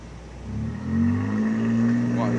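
A car engine on a beach rises from idle into a sustained rev with a climbing pitch, loud and close, while people shout encouragement over it.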